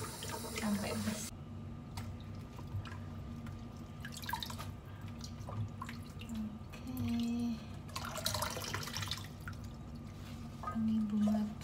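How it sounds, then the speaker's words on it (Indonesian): Vegetables being washed by hand under running water, with steady trickling and dripping, irregular splashes and clatter, and a few louder bursts of gushing water near the end. "Cuci sayur mayur sampai bersih."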